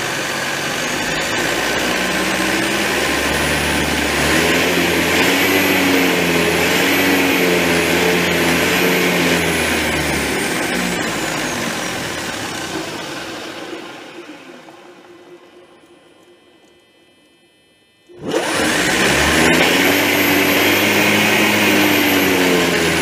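An electric vehicle motor drives a VW transmission on a test bench, whining steadily at high speed with rising and falling tones, then spinning down to near silence before abruptly starting up again at full, loud whine.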